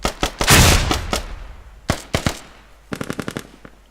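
Bursts of video game gunfire during a battle royale match: a dense rattling volley, then scattered single shots and a rapid string of evenly spaced cracks, fairly close and loud.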